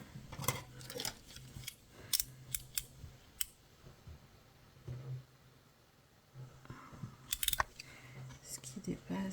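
Scissors trimming excess paper for a scrapbooking project: several quiet, crisp snips in irregular bursts, with soft handling noises and a low hum between cuts.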